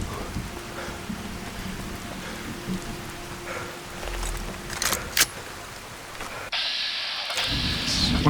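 Steady rain falls in Fallout: New Vegas, a soft continuous patter with a low rumble of thunder and a few sharper bursts, heard without talk.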